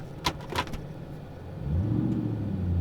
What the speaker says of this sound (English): See if you can hear the motor noise here